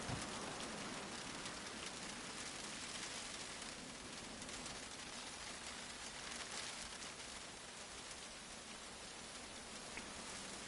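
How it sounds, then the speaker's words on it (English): Rain hits the ground in Generation Zero, a steady hiss of dense drops pattering evenly throughout, soft and unbroken with no talk. "I like the fact that when it's raining, the rain hits the ground."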